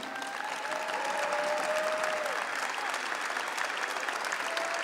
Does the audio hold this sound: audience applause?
yes